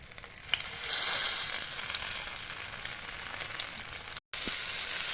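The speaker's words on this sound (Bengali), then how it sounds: "এইভাবে আমি একটু ভেজে নিব যাতে টাইট হয়ে লেগে যায়।" Pieces of pointed gourd (potol) fry in hot oil in a pan with a loud, continuous crackling sizzle, close up and steady, interrupted once by a brief cut to silence near the end.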